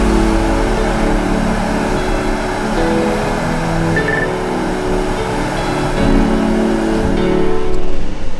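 A 2020 Porsche Macan S driven slowly onto a dyno indoors, its engine idling and rumbling steadily nearby and swelling slightly toward the end, with no talking.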